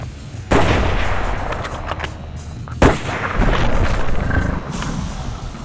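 Rifle shots are fired at a charging Cape buffalo during a hunt, with two loud sharp blasts about two seconds apart that ring out over steady outdoor rumble.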